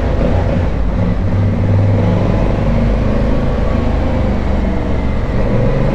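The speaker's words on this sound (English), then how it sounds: "Should do some revs in the tunnel." A Honda Africa Twin motorcycle revving inside a tunnel, heard as a loud, steady, close engine roar with booming low rumble and no voices.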